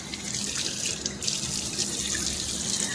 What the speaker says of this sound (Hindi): और पानी डाल रही है